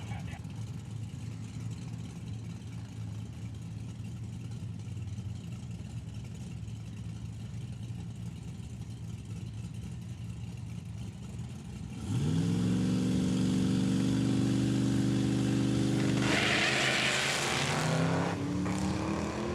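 A 1993 Ford Mustang and a 1977 Corvette drag racing at Saskatchewan International Raceway: a low engine rumble over crowd-level background, then a loud rising roar as the cars launch, with pitch sweeping upward through gear changes.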